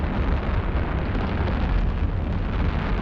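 Fireworks and charges explode during a memorial flight in the space game Eve Online, a dense, continuous rumble of overlapping blasts and pops with steady loudness throughout, with no talk.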